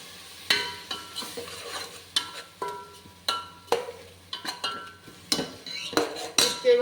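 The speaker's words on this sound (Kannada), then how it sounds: "ಇದನ್ನು ನೀಟಾಗಿ ಫ್ರೈ ಮಾಡ್ಕೊಳ್ಳೋಣ." Paste and spices for mutton biryani fry in a pot with a soft sizzle, broken by sharp metallic clinks and scrapes of a spoon stirring at irregular intervals. No voices are heard.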